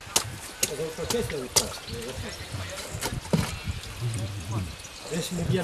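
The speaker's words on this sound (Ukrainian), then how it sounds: "Копаємо, вода постійно тече." Clean water streams steadily from a hard wooden log buried in a freshly dug trench after the log is cut open, a continuous trickling flow running under nearby speech.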